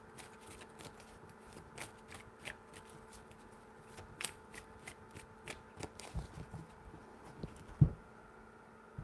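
Tarot cards are handled softly, with a steady series of faint, crisp clicks and flicks, near but quiet, and one firmer tap near the end.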